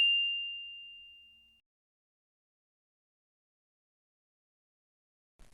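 Notification bell sound effect: a single clear, high ding that rings out and fades over about a second and a half, followed by silence.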